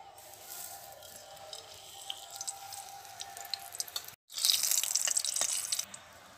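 A bay leaf, cardamom, cloves and cinnamon sizzle in mustard oil with a soft, steady crackle. After a brief break the sizzle returns as a louder, sharper burst before fading, with no voices.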